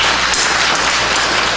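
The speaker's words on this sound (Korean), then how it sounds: "우리 그분들을 위해서도 큰 박수 한번 칩시다." A church congregation applauds loudly and steadily, a dense close wash of many hands clapping together with no break.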